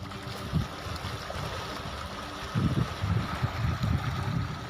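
Floodwater rushes past a village in a steady broad roar, with low churning surges swelling and fading, and no one speaking.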